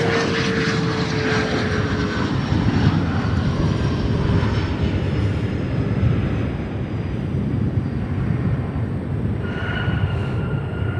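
A China Cargo Boeing 777 freighter on arrival into Chicago O'Hare, flying in from Anchorage, gives a loud, steady broadband roar with faint engine whine. It holds constant for about eleven seconds, with no talk.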